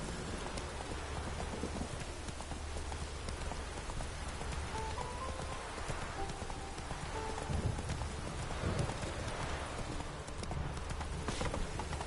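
Roach the horse from The Witcher 3: Wild Hunt, hooves clip-clopping at a steady walking rhythm through continuous heavy rain that patters on every surface throughout.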